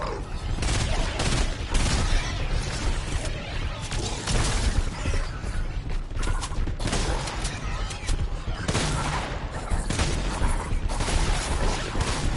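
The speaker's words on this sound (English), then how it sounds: "the heavy shotgun can pass through people" Dense stretch of video game gunfire from Fortnite's heavy shotgun, loud blasts and crashes packed together almost continuously, with no gaps between shots.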